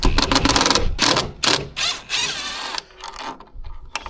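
A ratchet works loose the headlight bolts on an Audi S3, giving rapid close clicking bursts with brief pauses between strokes and no voices.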